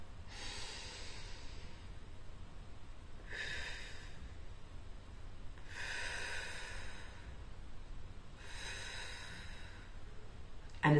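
Slow, deep three-part yoga breathing: four long, airy inhales and exhales, evenly spaced and close by, with no talking over them.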